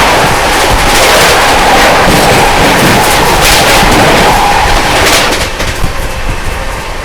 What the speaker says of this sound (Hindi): ये निकली नई दिल्ली विशाखापट्टनम आंध्र प्रदेश एक्सप्रेस